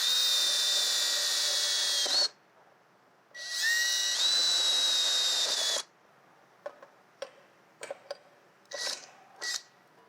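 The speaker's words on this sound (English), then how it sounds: "I'm just going to drill a couple 1/4-inch holes for mounting." A power drill bores quarter-inch mounting holes in the dash of a Bobcat, two long high-pitched whining runs separated by a pause, followed by several short clicks and light metallic rattles.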